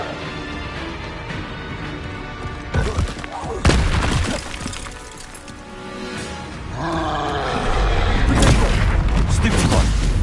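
Expelliarmus disarming spell cast in the video game Hogwarts Legacy, a loud magical burst with crackling impacts and rising whooshes over a continuous dense game soundscape, growing heavier toward the end.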